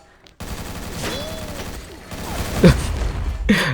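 Sabre Shark gun firing in the online shooter XSHOT, bursts of rapid shots and booming impacts, loud and close, with a short quiet gap at the start and game effects layered over the firing.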